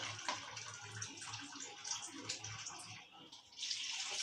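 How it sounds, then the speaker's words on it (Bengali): Water pours into a cooking pot of coarse-rice khichuri, a steady rushing splash that runs for several seconds, dips briefly, then surges again. "তারপর পানিটা দিয়ে দেবো।"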